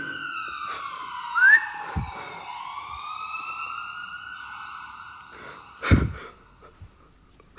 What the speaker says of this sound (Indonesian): Gue dengar suara ambulan, geng.